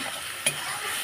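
Salted onions fry in a pan with a continuous close sizzle, and a single quick scrape of a stirring spoon stands out partway through.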